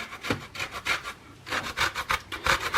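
Citrus zest is grated by hand for a carrot cake in a home kitchen, a steady run of rhythmic rasping strokes that pause briefly midway, close and fairly loud, with no talking.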